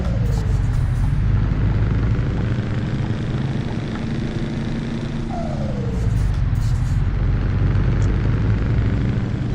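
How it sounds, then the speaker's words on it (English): Truck engine in Euro Truck Simulator 2, a steady low diesel drone throughout with two short rising whines, no talk over it. "truck sound is so wonderful."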